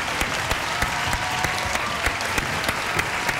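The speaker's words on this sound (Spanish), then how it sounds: "Un aplauso fuerte para ellas." An audience gives loud applause for two microentrepreneurs, a thick, sustained roar of many clapping hands with faint rhythmic accents running through it, close and full.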